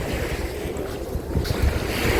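A small boat rides on the sea, with steady wave wash and wind buffeting the microphone, a constant rumbling roar with no talking.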